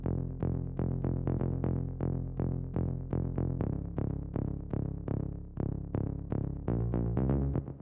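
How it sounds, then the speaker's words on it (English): Synth bass line from a melodic techno track, playing a steady run of short plucked notes in an even rhythm, loud and alone with no talking. "So the next sound we have here is the bass,"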